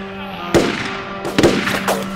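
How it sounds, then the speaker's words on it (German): Several sharp bangs of gunfire crack out at uneven intervals, close and loud, with echoing tails between shots, in a Western audio drama shootout. "Kein schlechter Schuss, Smiley!"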